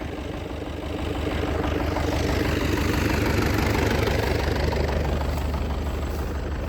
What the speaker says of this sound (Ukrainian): Бачите, сівалка ложить сою